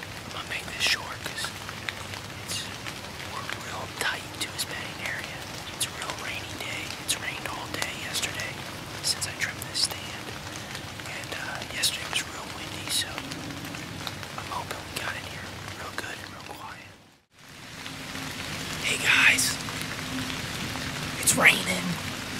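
Rain falling on a hunting stand at a farm, a constant close patter with scattered louder drops, while someone speaks quietly over it and the sound cuts out briefly before resuming.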